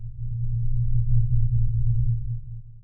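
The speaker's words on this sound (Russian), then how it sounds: "Мрачную атмосферу можно задать с помощью низкочастотного гула," A low-frequency horror-style hum drones steadily for about three seconds, dark and rumbling, swelling slightly in the middle before easing off, with no other sounds.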